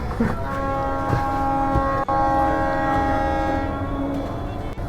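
Vaishali Express train pulling away from a small station, a steady loud rumble of wheels and carriages with a sustained horn-like tonal hum running throughout.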